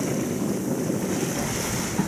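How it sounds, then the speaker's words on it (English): Ocean waves and wind buffet a small sailboat at sea off Mallorca: a loud, steady roar of surf and gusting wind noise with no voices. "the waves are starting to annoy you"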